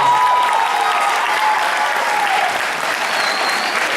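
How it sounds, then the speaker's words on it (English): Applause from an audience at a school spring concert fills the room: steady, dense clapping from a large crowd, loud and sustained throughout with no gaps. "we want to give them a round of applause"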